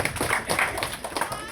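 A church congregation claps in thanks during a send-off service, a short burst of dense, steady applause filling the room with no break.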